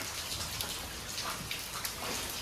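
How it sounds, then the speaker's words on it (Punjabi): Rain falls steadily and densely, a close, even patter with scattered sharper drops and no voices. "ਮੀਂਹ ਬੜਾ ਪੈਣ ਡਿਆ"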